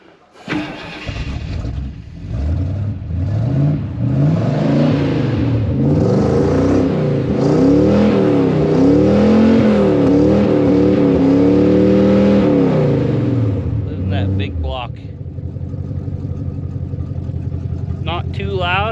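A 1968 Ford Thunderbird with a 429 Thunderjet big-block V8 and a new exhaust cranks and fires, then idles and revs repeatedly in deep, throaty swells before settling back, loud and close.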